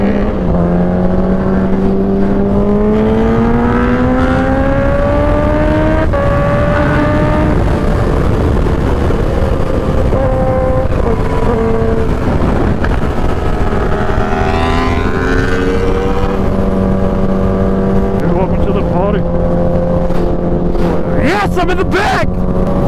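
Many motorcycles ride together in a large pack at a big bike meet, including a Ninja H2, with engine tones rising and falling continuously and loudly throughout while people talk over the roar.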